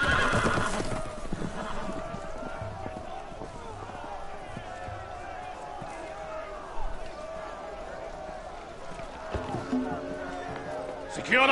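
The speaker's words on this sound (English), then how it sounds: "The horses! They're loose!" Loose horses in a Game of Thrones video game neigh and whinny while hooves clatter in a galloping run, with a busy game soundscape and voices throughout.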